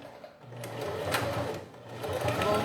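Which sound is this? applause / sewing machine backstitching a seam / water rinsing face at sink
sewing machine backstitching a seam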